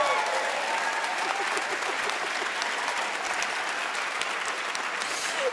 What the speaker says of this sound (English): can we just give Dave an actual round of applause?